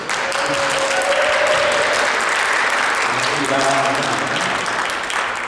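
Church congregation applauding during a Sunday worship service, steady dense clapping filling the room for several seconds, with some speech and voices faintly mixed under it.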